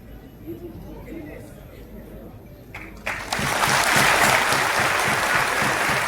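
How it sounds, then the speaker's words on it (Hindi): An audience at a UPPCS 2024 felicitation seminar in Prayagraj bursts into loud, sustained applause about halfway through, following a stretch of quieter murmuring and talk in the hall. "जोरदार तालियां होनी चाहिए।"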